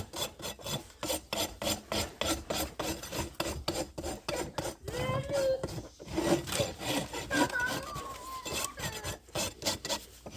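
A farrier's rasp files a horse's hoof during shoeing in rhythmic back-and-forth strokes, close and fairly quiet. Faint background sounds sit under the strokes midway.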